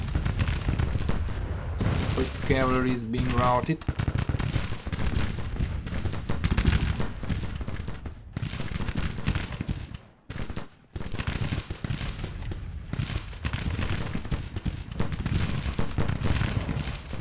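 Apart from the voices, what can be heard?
cannon and gunfire in Grand Tactician Civil War video game battle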